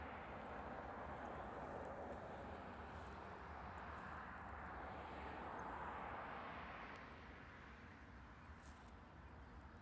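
Singapore Airlines co-branded Boeing 777 airliner at Honolulu, a distant, faint jet engine roar that swells gently and then eases off.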